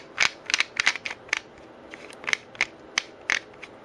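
A metal Qui-Gon replica lightsaber part being screwed back in, giving a series of sharp, close scraping clicks as the threads catch, irregularly spaced with brief quiet gaps.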